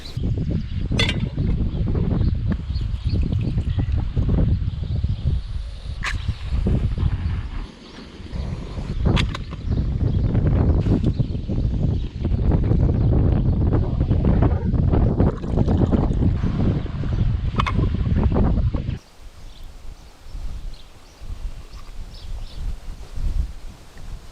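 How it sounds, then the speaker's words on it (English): Loud, steady wind roaring and buffeting the microphone for most of the stretch while riding a 2020 Honda CB500X motorcycle, dropping to a softer rush near the end. "Because there's so much wind"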